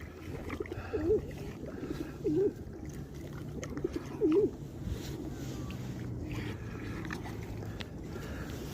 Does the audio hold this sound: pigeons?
yes